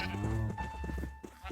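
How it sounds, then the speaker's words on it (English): Blocky sheep in Minecraft bleat a couple of times up close, a nasal wavering call standing clearly alone over a faint background. "let's try a red sheep with a yellow sheep"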